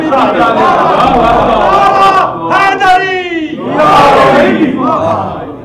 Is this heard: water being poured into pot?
no